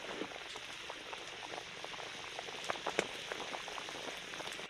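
Chicken curry with fried potatoes bubbling in a pot, a faint, continuous simmer with small irregular pops and bursts of liquid, heard alone and fairly quiet.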